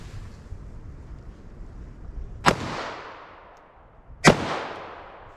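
Two sharp 10mm pistol gunshots crack out about two seconds apart, each loud and close with a short ringing decay, at a ballistic test outdoors.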